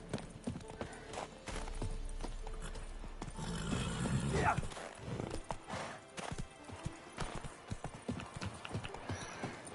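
Horse hooves clip-clop steadily in The Witcher 3 during a fight, with a neigh midway and a voice talking over the trotting.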